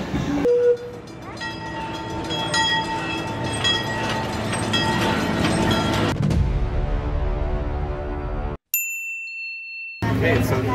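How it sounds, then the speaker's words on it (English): Texas Railroad amusement park train at Six Flags Fiesta Texas, a steady rumbling ride with ringing bell dings, a brief horn toot early, and a short mechanical squeal near the end. "Okay, so I've never been on this train before"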